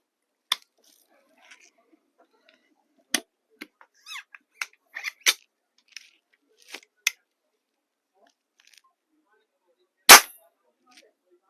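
A Precihole NX200 nitro piston air gun goes off in one sharp, loud crack near the end, preceded by scattered quiet clicks and handling knocks of the freshly repaired rifle.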